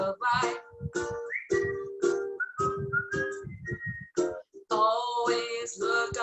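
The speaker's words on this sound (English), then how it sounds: "just purse your lips and whistle" Melodic whistling during a sung number at an online open mic, a sequence of clear whistled phrases with short gaps between notes, close and prominent with no speech over it.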